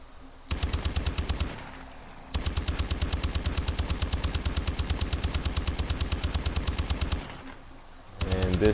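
Rapid automatic gunfire from a weapon in a zombies shooter game, two long sustained bursts of evenly spaced shots separated by short pauses, loud and close, with no voices.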